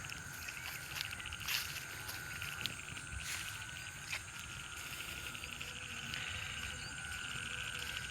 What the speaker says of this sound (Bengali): কোলা ব্যাং ডাকতেছে, শব্দ হচ্ছে